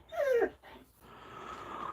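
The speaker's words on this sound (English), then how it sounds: "I'm trying to correct my dog. She talks. She's an Alaskan Malamute." An Alaskan Malamute produces a close, loud vocal whine that slides downward, then a low, steady growling whimper that keeps going to the end, with no talking over it.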